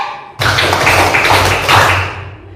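Children in a classroom clapping game burst into a sudden loud, dense round of clapping that holds steady for a couple of seconds, then tapers off.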